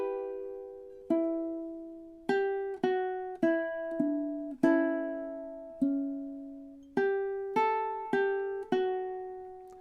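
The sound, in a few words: ukulele playing first two measures of a song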